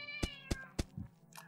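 A cat in the horror game Mad Father gives three sharp, evenly spaced cries followed by a softer trailing sound, close and clear with no talking over it.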